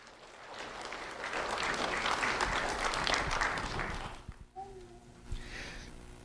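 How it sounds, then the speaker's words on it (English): An audience at a sheriff's office student recognition ceremony claps steadily for about four seconds, then the applause fades into quiet room sound. "Round of applause for Omar."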